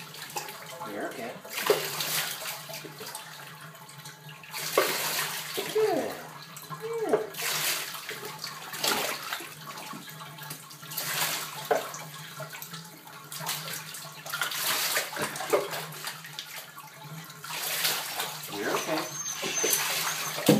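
Water pours and splashes while a Doberman is rinsed during his first bath, running in uneven bursts close by, with a person talking quietly over it.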